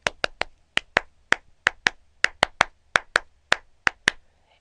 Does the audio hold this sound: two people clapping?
yes